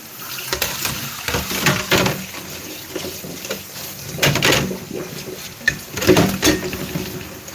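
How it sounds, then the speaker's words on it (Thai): Running water splashes at a home kitchen sink while cups are washed, with uneven bursts of spray and light clatter continuing steadily at close range throughout. "แม่ก็ล้างถ้วยล้างซ้ำนะคะ"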